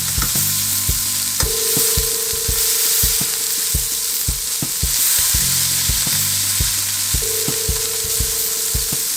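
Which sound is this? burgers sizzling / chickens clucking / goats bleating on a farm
burgers sizzling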